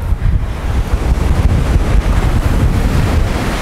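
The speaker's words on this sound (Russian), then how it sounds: "Ветерок дует, море." Steady wind gusting across the microphone with the continuous wash of sea waves at Yalıhan, Turkey, loud and close, no voices.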